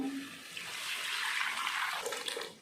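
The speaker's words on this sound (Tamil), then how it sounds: "வேக வச்சு மசிச்சு வச்சுருக்கிற கொள்ளு தண்ணியை சேர்த்துருவோம்" Cooked, mashed horse gram water pours into a pot of rasam with tomato and tamarind, a steady splashing gush that builds, then tapers off near the end.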